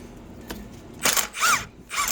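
An impact wrench loosens a coilover bolt on a G35 during a coilover install, firing three short, loud, rattling bursts close by, with quieter clatter beforehand.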